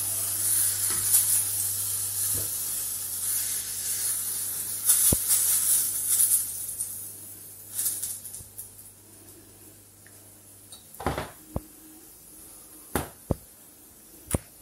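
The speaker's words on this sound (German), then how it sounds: "Die Pfanne wird jetzt auch erst richtig heiß." Bread frying for French toast in a hot pan: frying sizzle and hiss throughout, with occasional sharp scraping clicks and taps toward the end.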